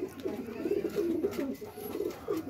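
Pigeons coo in soft, throaty, rolling calls, close by and continuous, with faint background noise.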